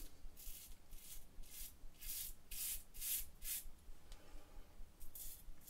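Close, rhythmic scratchy rasping of a safety razor with a Derby Premium blade scraping across stubble, short strokes repeating steadily and quietly.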